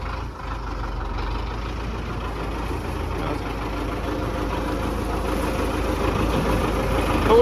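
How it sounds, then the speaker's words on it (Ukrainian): A tractor with a 1.3 cubic metre bucket drives up at a corn storage yard on a concrete floor, its diesel engine a steady low rumble that grows slightly louder and nearer throughout, with no talking. "Наїжджає трактор."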